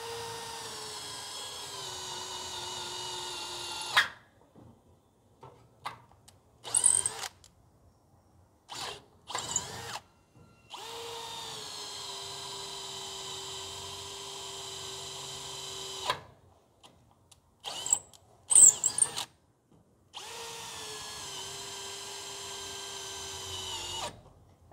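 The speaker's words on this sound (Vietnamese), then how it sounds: "khi mình khoan gỗ sồi 10 ly với mũi khoan 10 ly này" A Bosch GSB 185 Li cordless drill bores into oak with a 10 mm bit, close and loud, in several whirring bursts separated by abrupt stops, the motor pitch sagging as it bogs near the end of each hole.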